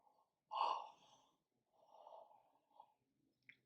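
A person demonstrates a wide, open-mouthed yawn during a Bell's palsy facial exercise, heard as a soft, breathy intake and exhale, close and quiet, followed by a faint trailing breath.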